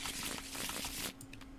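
A deck of Arkham Horror card game cards is shuffled, a quiet close riffling patter running steadily for about a second before trailing into soft taps.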